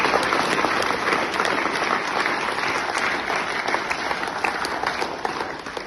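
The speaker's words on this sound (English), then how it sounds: "Just a round of applause for those people." Sustained applause from a seated crowd at a mayor making ceremony with a celebratory meal, steady dense clapping filling the room for several seconds without pause.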